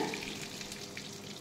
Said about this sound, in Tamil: பொடியாக நறுக்கின பூண்டு, எண்ணெய் வேணால் கொஞ்சம் குறைச்சிட்டு அதில் பூண்டு போட்டுடுங்க.